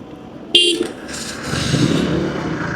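Busy road with heavy, often jammed traffic: a short bright car horn toot rings out, followed by a steady wash of passing engines and motorcycles, with voices faintly mixed into the din.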